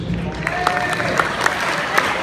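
An audience at a school talk in Tulare applauds for the teachers, a steady, close wash of many hands clapping throughout, with a few faint voices mixed in.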